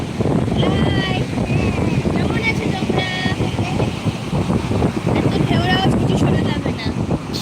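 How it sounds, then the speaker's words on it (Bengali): Strong wind blowing on a beach in Puri, a loud continuous roar buffeting the microphone, with people talking underneath and faint distant vehicle noise. "এত হাওয়া বইছে"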